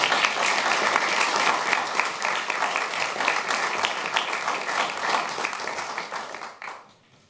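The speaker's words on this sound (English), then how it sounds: "so give him a warm applause" An audience applauds a speaker at a talk on Afrin at De Balie, a sustained, full wash of many clapping hands that holds steady and then tapers away at the end.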